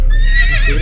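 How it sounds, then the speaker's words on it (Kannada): A horse at a temple site gives a short, loud, close whinny that rises and wavers for under a second. "ಒಂದು ಕುದುರೆ ನೋಡಿದಪ್ಪ ಕುದುರೆ"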